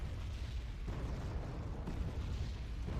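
Heavy bombs detonating in the real-time strategy game Wargame: Red Dragon, a dense continuous rumble of overlapping booms at steady loudness across the whole stretch, with no voices.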